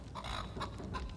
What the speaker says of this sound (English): Oh, the chicken! Let's go talk to the chicken!